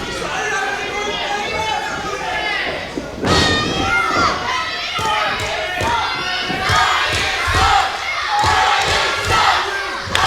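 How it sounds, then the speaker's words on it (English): A crowd at a CCW tag-team wrestling show chants and shouts loudly and continuously, with rhythmic thumps and mixed voices throughout. "Seems like this is the favorite chant of the crowd here."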